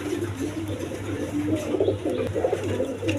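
Raj Golla and Lalgarra pigeons coo softly in repeated low, rolling calls close by over a steady background hum.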